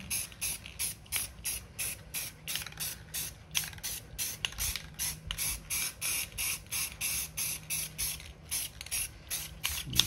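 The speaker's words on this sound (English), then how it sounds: "you're going to spray the whole entire rest of the canvas in black" Rapid repeated bursts of black spray paint from an aerosol can onto a canvas, hissing in short even pulses one after another, close and fairly quiet, with no talking.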